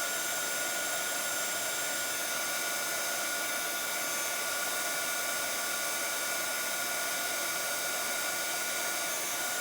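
A heat tool drying Sizzix Expand Paste so it puffs up produces a constant, close blowing whir with no breaks.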